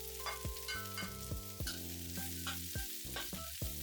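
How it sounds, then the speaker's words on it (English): Onions, shallots and green onions stir-fried in a wok for soy sauce chow mein: a steady sizzle broken by repeated spatula strokes, with a steady hum beneath and no talking. "We're going to stir fry this again for about 30 seconds to a minute to get rid of the raw taste of the vegetables."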